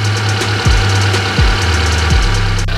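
A fuel-injected car engine idles close and loud with a steady low hum, settling toward normal RPM, the pitch dipping briefly three times at regular intervals.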